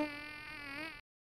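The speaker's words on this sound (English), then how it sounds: "Mosquito." Buzzing mosquito effect from the Stunt Island game, a steady, high, whining drone with a slight wavering pitch, close and clear for about a second before cutting off abruptly.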